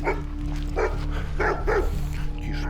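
A chained dog barks several times in short bursts, moderately loud, near abandoned locomotives, over a constant low mechanical hum.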